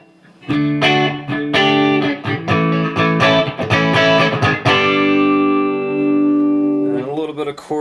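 An electric guitar through a Marshall Silver Jubilee amp plays a run of strummed chords with a shimmering chorus effect, ending on a sustained ringing chord, loud and close.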